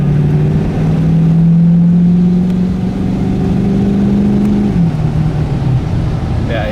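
A 2011 Ford F350 pickup with a 6.7 Powerstroke diesel pulls hard under acceleration, a loud steady engine drone rising slowly in pitch for several seconds before dropping as it shifts, heard from inside the cab.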